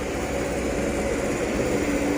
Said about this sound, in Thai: ไปเร่งเครื่องให้น้ำมันไหลแรงๆนะคะ